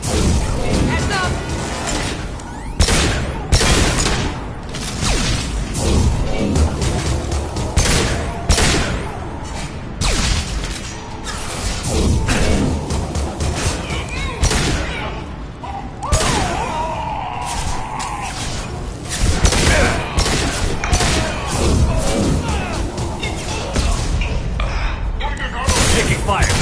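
A firefight erupts in the sci-fi shooter Mass Effect 2, with rapid volleys of shots, impacts and crashing debris repeating over nearly half a minute, loud and close, while voices call out between bursts.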